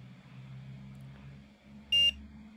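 A multimeter on continuity mode gives one short, loud electronic beep while probing a Vivo Y81 phone board for a short near the CPU, against quiet background hum.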